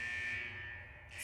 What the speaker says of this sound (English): A very classical alarm sound for a place being so futuristic.